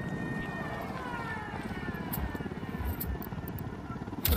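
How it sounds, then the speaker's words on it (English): Helicopter in the video game Ghost Recon Wildlands: steady low rotor thump with a faint whining turbine tone drifting across, held at a constant level for several seconds, with a brief louder hit near the end and no talk. "Chopper incoming."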